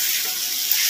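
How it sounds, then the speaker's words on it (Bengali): A ginger, garlic, green chilli, tomato and onion spice paste frying in a pan, giving a steady, close, even hiss of sizzling throughout with no talk. "মশলাটা ভালো মতো কষিয়ে নিচ্ছি, ফ্লেমটা একটু কমিয়ে দিচ্ছি।"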